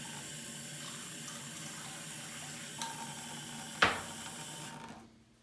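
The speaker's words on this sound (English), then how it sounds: "fill it up with some water" Tap water runs steadily into a bowl of pinto bean seeds, a soft continuous splash with a couple of brief clunks before the flow stops.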